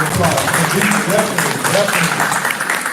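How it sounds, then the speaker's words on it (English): Attendees at a City of South Fulton public meeting give a round of applause, steady clapping from a crowd in a hall, heard alongside talking. "Let's give a round of applause."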